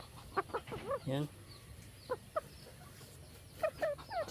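A broody hen clucks in several short bursts, close and fairly quiet, with a low drawn-out call in the middle, pauses of near silence between groups, and a brief human voice at one point.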